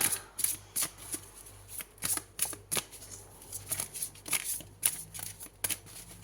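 Large oracle cards being shuffled by hand, a quick irregular run of crisp slapping riffles close up, with no talking during the shuffle.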